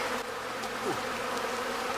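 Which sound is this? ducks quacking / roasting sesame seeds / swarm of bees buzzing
swarm of bees buzzing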